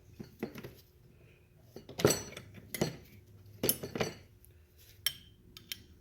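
Metal wrenches clatter and clink while being sorted through during work on a Milwaukee M12 grease gun, with several sharp, close metallic knocks scattered irregularly over a quiet background.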